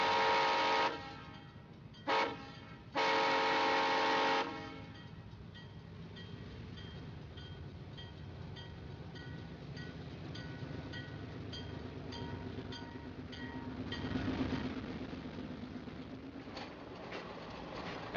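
Southern Crescent passenger train pulling out, with loud horn blasts in the opening seconds, then a steady rumble of the moving train with harmonic tones throughout and a swell near the end.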